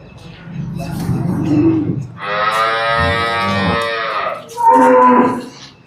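Cows at a cattle sale moo loudly nearby, several long, drawn-out calls one after another, with a low rumbling voice and some background noise between them.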